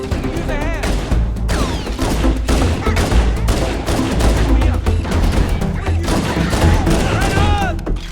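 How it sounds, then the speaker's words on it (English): Sustained gunfire in Halo: Combat Evolved, dense rapid bursts and booming shots filling the whole stretch, with synthetic weapon whines and game effects layered over a constant loud battle din. "Taking fire!"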